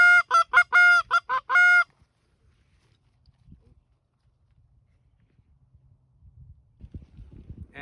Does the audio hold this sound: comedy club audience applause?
no